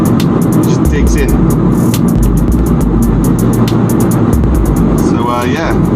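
FK2 Honda Civic Type R driven hard, a loud continuous engine and road roar with wind buffeting and droning low rumble throughout, close and steady.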